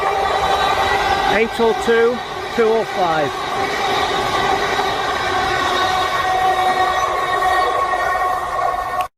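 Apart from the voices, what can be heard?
passing train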